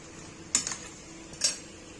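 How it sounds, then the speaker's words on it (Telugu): Two sharp clinks of steel utensils come close together during washing-up in a home kitchen, set against a quiet background. "స్టార్ట్ గిన్నెలు తోమడం"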